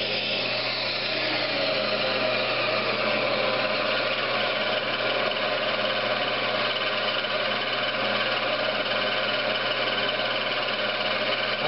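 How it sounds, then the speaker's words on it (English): A wood lathe turning slowly while polish is applied to a Christmas ornament, a steady close mechanical hum with a faint rubbing texture, constant throughout and with no talk. "Slow the lathe down a little bit."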